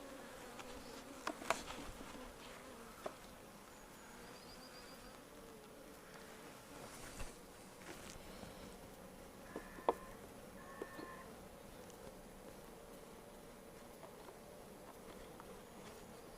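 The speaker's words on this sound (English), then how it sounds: "got a few guard bees buzzing around me now" Guard bees buzz around an open beehive during a hive inspection, a steady faint hum with occasional closer passes and a few small knocks, no voices.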